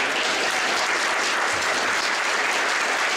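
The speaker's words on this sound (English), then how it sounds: "Let's give a round of applause to Earl." An audience applauds in tribute to a man named Earl before a film screening, a dense, steady wash of many hands clapping, loud and unbroken, with no voices heard.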